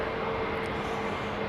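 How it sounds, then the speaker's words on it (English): A United Boeing 767 airliner bound for Newark at London Heathrow gives off a steady, loud jet roar that holds evenly throughout, with no voices. "United 767 heading to Newark. And I think that is it there."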